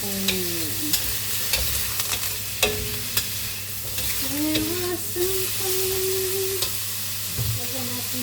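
Green beans and shrimp sizzle and fry steadily in a pan, with spatula stirs and scrapes clicking irregularly against the metal over a constant hiss.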